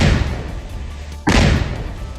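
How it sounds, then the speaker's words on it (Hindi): A sudden heavy boom from a blast demolishing a house in Jammu and Kashmir strikes midway, cutting through a rumbling background and leaving a loud roar trailing off. "सेना के जवानों ने आतंकी आसिफ का घर ब्लास्ट से उड़ा दिया।"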